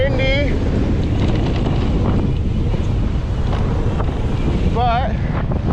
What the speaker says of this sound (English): so it's a little windy out here